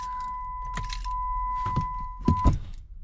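Keys jangle as they are pulled from a Jeep's ignition, a few close metallic rattles and clinks over a steady ignition chime, ending in a couple of louder knocks.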